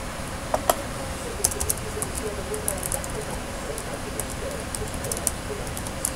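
A computer keyboard clicks in short, scattered keystrokes over a quiet background hiss, close and fairly soft.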